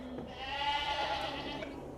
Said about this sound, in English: You're down there with the goats this morning.